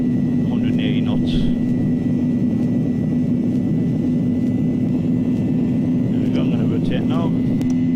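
Simulated aircraft engines during takeoff roll at Innsbruck airport in the X-Plane flight simulator, a constant loud engine drone with a steady tonal hum, while someone speaks over it.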